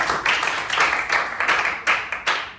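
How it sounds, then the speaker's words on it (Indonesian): A classroom of students claps for a classmate, a dense burst of hand clapping that swells in several waves across a couple of seconds, fairly close and loud, with no talking over it. "boleh tepuk tangan dulu buat kawan"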